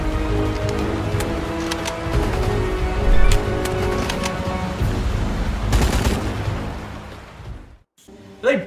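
Rapid machine gun fire and explosions from Rambo: The Video Game crackle in dense bursts, with a commentator talking over the gunfire before a brief pause near the end.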